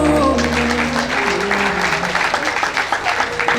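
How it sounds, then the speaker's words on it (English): An audience at a PWAN Group success summit award ceremony claps steadily throughout, dense and sustained, with tonal music running underneath the applause. "Now we clap for her, please."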